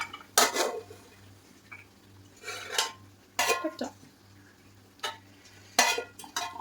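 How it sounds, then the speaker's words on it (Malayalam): Fried cashews and raisins are scooped out of a pan with a spoon, giving a series of short scraping clinks and stirring sounds at irregular intervals against a low steady hum, close by and without talk. "ഈ പാത്രത്തിൽ നമ്മുടെ കാഷ്യൂവും കിസ്മിസും കരിഞ്ഞു വന്നിട്ടുണ്ട്. നമുക്ക് കോരി എടുക്കാം."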